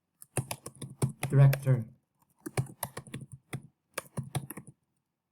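Light clicking of computer keyboard keys being typed, in short scattered bursts close by, mixed in with a person speaking.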